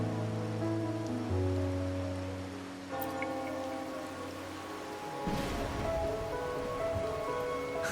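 Steady rain on a rainy night in the video game Wuthering Waves, a continuous hiss of drops under sustained tonal music that grows to a fuller downpour wash toward the end, with no voices.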